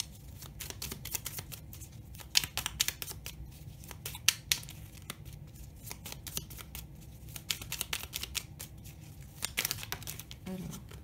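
Oracle cards from a Toltec agreements deck being shuffled and drawn, a dense run of crisp, snapping card riffles and flicks at close range throughout, loud and rhythmic with brief pauses, no speech.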